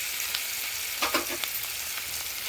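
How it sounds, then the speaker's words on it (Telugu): Ginger garlic paste sizzles and fries steadily in a pan with salt, chili and turmeric, a constant close hiss with a few brief crackling bursts and stirring noises partway through. "చక్కగా వేగనిద్దాం."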